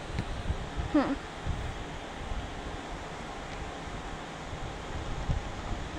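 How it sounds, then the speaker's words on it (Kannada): Outdoor wind blows in a steady, faint, broadband rush with slight gusty swells, and one brief sharper sound appears near the start. "ಆಹಾ, ಗಾಳಿ ಎಷ್ಟು ಚೆನ್ನಾಗಿ ಬರುತ್ತೆ ಅಂದ್ರೆ"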